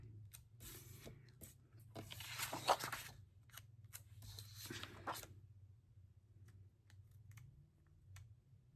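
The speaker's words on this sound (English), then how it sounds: "We'll just trim that off, and we'll use the other half." Scissors trimming paper for a planner, a few crisp snipping cuts close by in the first half, then quieter scattered clicks and light handling of paper.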